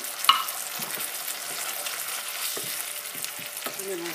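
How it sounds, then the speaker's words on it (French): A spoon stirs tomato sauce thinned with a little water in a pan, giving a soft, steady wet scraping with a few light clinks against the pan, fairly quiet and without talk. "Je mélange tout."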